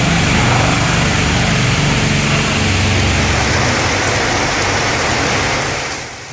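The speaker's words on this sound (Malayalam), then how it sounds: "രാവിലെ ഇടവിട്ട മഴ പെയ്യുന്നുണ്ട്" Heavy rain falls in Malappuram, a dense, loud, steady hiss that continues without a break and eases slightly at the very end.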